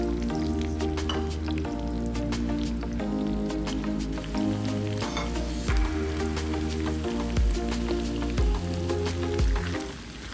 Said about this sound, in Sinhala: මදකින්දරේ මේක හොඳට අපි බැදගමු මස් ටික.